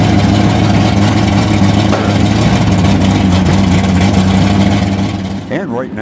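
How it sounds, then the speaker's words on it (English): A 1967 Ford Fairlane with a big FE 427 V8 rumbles loudly at a drag race car show, a steady deep engine drone that fades slightly at the end, with voices briefly audible. "1967 Ford Fairlane powered by the big FE 427 engine"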